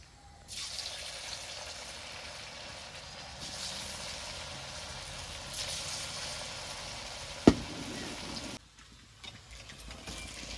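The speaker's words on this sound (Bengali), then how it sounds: "সাবুর বড়াগুলো নামিয়ে নিয়েছি, এবার বাকি বড়াগুলো এভাবে ভেজে নেব।" Fritters of sago and potato crackle and sizzle in hot oil in a steady, close hiss, broken by one sharp clink near the end and a brief drop in level.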